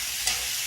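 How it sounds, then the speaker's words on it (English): Beans sizzle steadily in hot sausage grease in a skillet, a loud, dense, continuous frying hiss heard close up with no voices. "See how it's frying up right there?"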